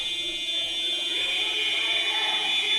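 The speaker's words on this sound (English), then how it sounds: "There's the buzzer, and Ollie just calls it." A loud, sustained electronic buzzer signals full time at a Wales v Ireland rugby match, holding steady for the whole moment over crowd and stadium noise.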